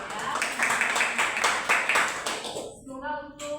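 Students in a classroom clap for themselves in a quick burst of rhythmic clapping lasting a few seconds, then it stops and someone starts speaking.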